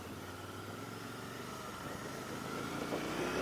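Royal Enfield INT650 motorcycle being ridden, a steady mid-pitched engine drone with wind noise that builds slightly toward the end, no voices.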